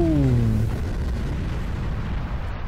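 A huge blast from $100,000 worth of explosives hits hard at the start, a loud deep boom with a falling tonal sweep, then a long rumbling roar that slowly fades.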